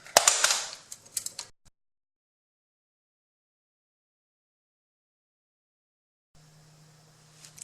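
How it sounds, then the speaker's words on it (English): Loosening brake caliper pins on a Toyota Corolla: a short burst of sharp metallic ratcheting clicks near the start, then a long silence and faint low hum toward the end. "So now I'm just going to loosen the caliper pins here."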